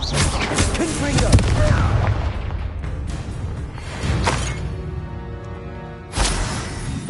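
Blasting fire spell explosions and magical impacts in Hogwarts Legacy on PS5, loud and dense with a burst near the start and sharp hits around four and six seconds, layered over game noise and some voice.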